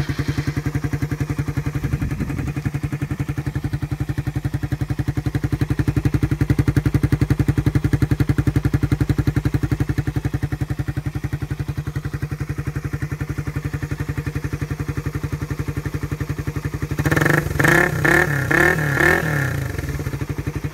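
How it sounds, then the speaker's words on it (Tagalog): A motorcycle fitted with a V-Max conical open pipe exhaust and silencer runs at a steady idle, then gets several quick, sharp throttle blips near the end. "B-Max Conical Open Specs. Sound test natin siya ng may silencer."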